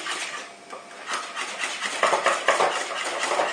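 A spoon stirs a thickening béchamel-style cream sauce for lasagna in a pan, making continuous close scraping and soft clattering against the pan with an uneven rhythm and no talking.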